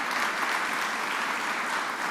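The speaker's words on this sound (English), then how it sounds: "Let's give her a round of applause as well." Steady, dense applause from a live audience at a governor's remarks on a transit worker assault bill, a continuous wash of many hands clapping with no gaps throughout.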